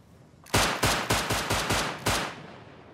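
Seven rapid, loud gunshots in the survival game Rust, evenly spaced at roughly a third of a second apart, each with a short echoing tail and nothing else heard.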